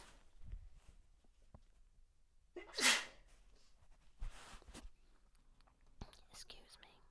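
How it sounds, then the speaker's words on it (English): A single sharp sneeze bursts out close by, surrounded by quiet breaths and soft rustling. "Got a sneeze."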